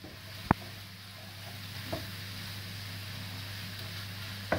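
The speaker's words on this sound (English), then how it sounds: "So just make sure you keep stirring it so it doesn't burn in the bottom." Bolognese sauce sizzles softly in a pan as it is stirred, a steady low frying hiss with a couple of faint scraping knocks from the spoon, no voices.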